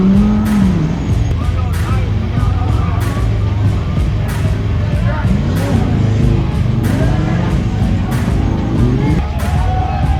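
Cars and trucks race round a track at a Chevyland meet, engines droning loudly and continuously with repeated passes, revving surges and occasional tire noise close by.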